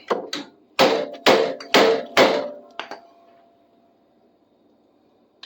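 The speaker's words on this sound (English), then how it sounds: "I'm going to hammer that up until it goes in the hole all the way." Sharp metal-on-metal hammer blows drive a part into the rear wheel mount of an e-bike, about six loud strikes in a steady rhythm, then a faint ringing tail and near silence.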